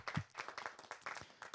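An audience at a Hindi poetry and shayari gathering claps in a short, fairly quiet burst, with scattered hand claps rising and falling over about a second and a half.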